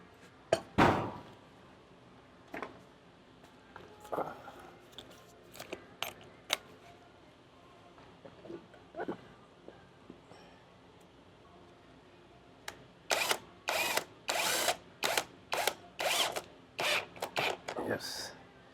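Metal clinks and ratcheting clicks from bolts being tightened on a 10x2.5 solid tire fitted to an electric scooter, scattered taps early then a fast rhythmic burst of sharp clicks near the end, with brief talk.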